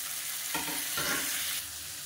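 Chopped tomatoes and Kashmiri chili sizzle in a pan while being stirred for a chutney, a steady close frying hiss that swells briefly as the spoon moves through them.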